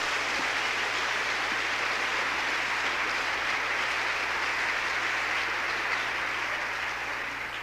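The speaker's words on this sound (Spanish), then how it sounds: "Le damos un aplauso al Señor" A church congregation applauds during an apostle's sermon, a continuous dense wash of many hands clapping, steady and evenly loud for the whole stretch.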